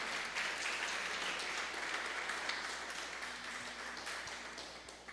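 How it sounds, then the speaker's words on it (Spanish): A church congregation applauding, a steady wash of clapping that fades slightly toward the end, fairly faint and heard from within the hall. "Denle un aplauso al Señor."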